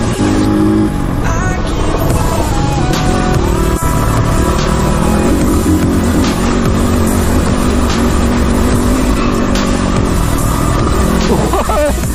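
A Crossfire motorcycle engine drones loud and close during a group ride to Saljhandi waterfall, with a sustained rising and falling roar and a passing vehicle or two mixed in under occasional voices.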